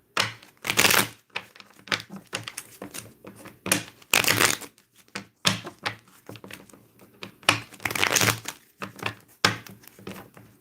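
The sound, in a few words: shuffling cards for a reading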